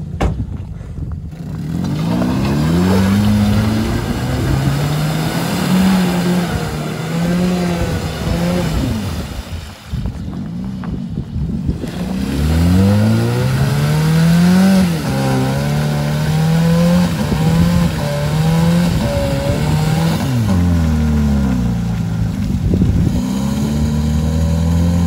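A Toyota engine revs hard while mudding, loud and close throughout, with rising and falling pitch sweeps as the throttle is worked, dropping off briefly near the middle before surging again.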